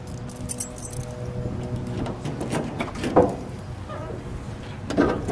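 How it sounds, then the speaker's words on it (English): Keys jangle and clatter as the trunk of a 1974 Chrysler New Yorker Brougham is opened, a few close metallic rattles and a latch clunk over low background noise. "Let's open the trunk"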